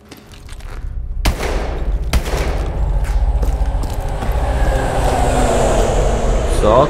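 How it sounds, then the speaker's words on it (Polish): A train rumbles past in the Call of Duty: Advanced Warfare mission Aftermath, a deep continuous roar that builds steadily over several seconds with sharp metallic clanks and bangs near the start. "Co to było? Jakiś pociąg chyba, albo metro."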